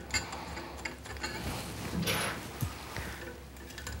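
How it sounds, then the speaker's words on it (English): Medium-size Allen wrench ratcheting and clicking as it tightens the mounting screws on an Excalibur crossbow, a soft steady metallic grinding with a few small knocks, close by and with no talking. "Now this is where you're going to use the medium-size Allen wrench that comes with the set."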